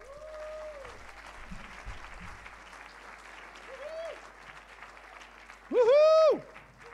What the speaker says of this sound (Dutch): Geef ze dan een applaus.